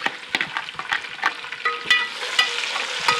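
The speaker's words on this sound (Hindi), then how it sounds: "प्याज हमारे हो गए अब हम टमाटर डालेंगे" Tomatoes tossed into a pan of frying onion masala for a palak kofta curry crackle and sizzle steadily, with repeated close spatula taps and stirring scrapes throughout and no voices.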